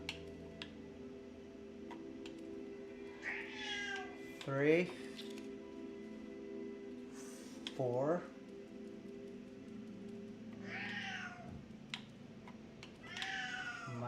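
Pet cat named Roast Beef meowing indoors, several separate meows spread across the stretch, near and moderately loud, with someone talking quietly in between and faint ticking clicks.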